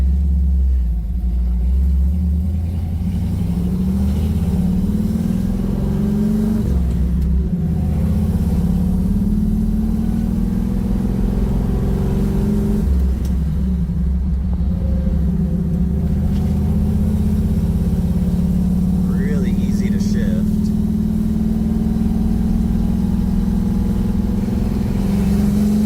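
A 1967 Chevrolet Camaro engine runs steadily for a long stretch, a loud, continuous rumble with mild shifts in pitch as it idles and revs, heard up close with no voices.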